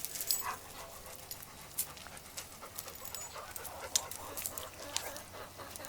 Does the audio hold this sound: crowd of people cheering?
no